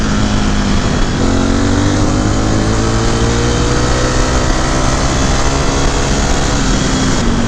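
A 2018 Ducati Scrambler 1100 Special engine under way, a loud, steady droning hum with rising and falling engine tones and constant wind rush, no voices.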